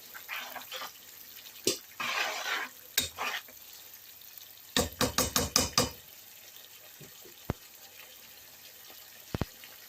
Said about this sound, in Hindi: योगर्ट डाल के भी हमने 5 से 6 मिनट तक भुनाई करनी है।